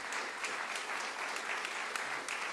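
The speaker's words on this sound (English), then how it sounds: "Give yourselves a big round of applause." A concert audience applauds at a WoodSongs live broadcast, a dense, even wash of clapping that carries on steadily throughout with a few sharper claps standing out.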